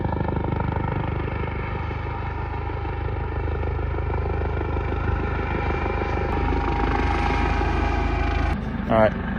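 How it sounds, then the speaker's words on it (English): A Coast Guard helicopter maneuvers overhead on a coastal fishing outing, its steady rotor drone and engine hum persisting throughout with a brief louder flutter near the end. "There's a Coast Guard helicopter doing some maneuvers in the background"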